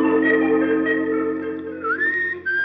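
A man whistles a clear, sustained tune with a few bending pitch slides, close and alone without talk.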